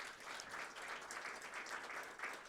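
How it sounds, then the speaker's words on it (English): Audience applause at a tourism economy event, an even, sustained wash of many hands clapping at moderate distance, fairly quiet and continuous without talk. "A round of applause again to the Vancouver Football Club."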